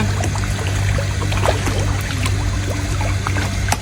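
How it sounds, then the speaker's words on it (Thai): An empty fishing dip net plunges into water beside a floating fish cage, giving a loud, close rush of splashing and pouring water with scattered drips and trickles throughout. "สวิงเปล่าลงน้ำแล้วนะ"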